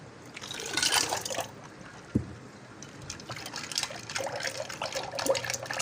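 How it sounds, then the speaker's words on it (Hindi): Ice added to homemade mango juice in a jug: trickling, sloshing liquid with a sharp single knock of ice partway through, followed by continued splashing and stirring. "अब शामिल करेंगे बर्फ़।"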